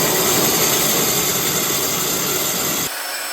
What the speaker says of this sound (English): I am stressing this bandsaw to its limit